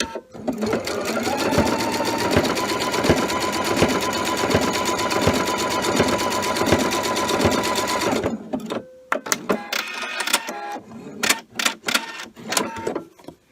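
A sewing machine stitches a blind hem on quilt binding in a steady, fast rhythmic run for about eight seconds, then stops and gives way to a few short, sharp clicks and taps as the fabric is adjusted.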